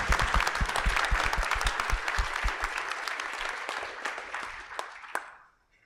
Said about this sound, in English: So if you would all give her a round of applause.